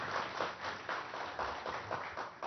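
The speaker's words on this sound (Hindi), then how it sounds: "मैं चाहूंगा बहुत जोरदार तालियों के साथ उनका हम स्वागत करें।" Audience applause welcomes a political party's state president as a guest on a television programme, rhythmic pulsing claps in steady waves, somewhat muffled and continuous, with no talking over it.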